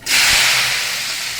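Chopped okra hits hot oil seasoned with black cumin, erupting into a loud, close, sustained sizzling hiss that starts abruptly and slowly settles.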